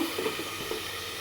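Curry cooking on a stovetop burner gives off a steady, close sizzling hiss with soft bubbling pops, brief and continuous, no voices.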